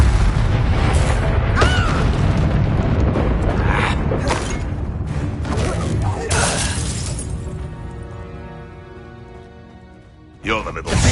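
A Confringo explosive spell goes off in Hogwarts Legacy, giving a loud, shattering blast that booms and fades over several seconds before a sharp new burst near the end, with voices in the game mixed in.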